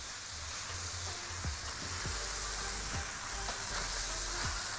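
A cube of butter dropped into a pan of frying shrimp pasta filling, producing a constant close sizzle with several soft clinks and scrapes of stirring scattered through it and no voices.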